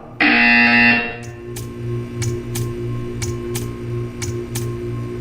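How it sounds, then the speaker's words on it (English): A harsh electronic buzzer in the video game Portal 2 blares for about a second, then stops, leaving a steady hum with a string of sharp, evenly spaced ticks. "You will hear a buzzer. When you hear the buzzer, stare at the art."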